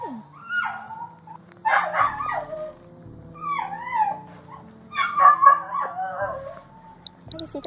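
Puppies whimper and yip in a string of high, wavering cries and short yelps, close and fairly loud, with a faint low hum underneath.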